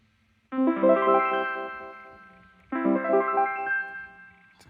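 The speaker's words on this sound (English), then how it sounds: "And voice 2 sounds like this." Omnichord voice 2 with the sustain turned down sounds twice, each a rich, buzzy chord tone that swells in and fades gradually, close and clear, with no speech over it.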